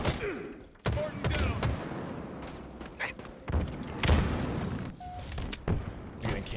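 Gunfire in a Halo match, repeated sharp shots and bursts spread through the scene, loud and close amid game effects, with a commentator's voice underneath.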